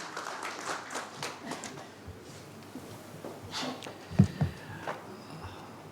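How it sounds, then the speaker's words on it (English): Audience applause at the inaugural session of the Logistic Conclave 2024 conference, heard as faint, scattered clapping from a distant crowd with a few sharper claps near the end. "Can we have a wealthy round of applause, everyone?"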